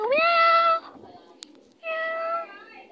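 A cat gives two clear meows close by, the first rising and drawn out, then a pause with a faint click before a second, flatter meow.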